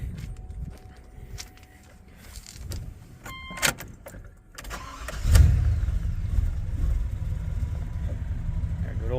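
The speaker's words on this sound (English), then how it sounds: "I'll fire it up." A 1994 Chevy K1500 pickup with a swapped-in 5.7 V8 sits quietly with a few clicks before the starter cranks briefly. The engine fires with a thump and settles into a loud, steady idle up close.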